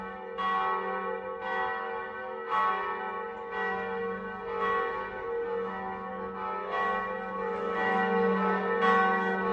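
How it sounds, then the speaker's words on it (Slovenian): Church bells ring steadily throughout, with repeated rhythmic strikes over a sustained ringing hum, fairly loud and unbroken, with no talking. "Odkdaj pa se slišijo zvonovi sem zdaj?"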